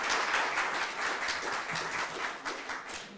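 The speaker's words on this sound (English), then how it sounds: "Let's give him a round of applause." Audience applause at a building renaming ceremony for an Office of Diversity, Equity and Inclusion, a dense steady wash of many hands clapping at moderate volume that swells and dips slightly without pause.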